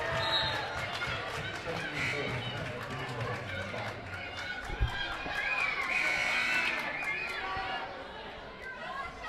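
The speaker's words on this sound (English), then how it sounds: "A lot of vocal crowd members." Vocal spectators at a high school basketball game against Emporia call out and chatter in a gym, with a sharp thud midway and a commentator talking over the noisy crowd.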